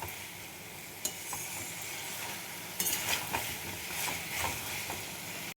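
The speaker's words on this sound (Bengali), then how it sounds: "এবার এই মশলার সাথে লাউগুলো কষিয়ে নেব।" Bottle gourd sautéed with spices in a pan gives a steady, moderate sizzle with scraping stirring strokes and occasional clinks of a utensil, continuous throughout with no talking.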